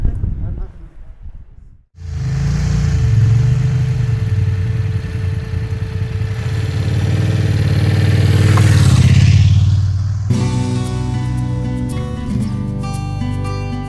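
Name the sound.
motorcycles riding on a road trip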